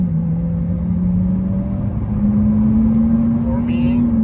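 Lamborghini Aventador on a test drive after a clutch replacement, its engine a steady droning rumble that rises slightly in pitch, heard from inside the cabin.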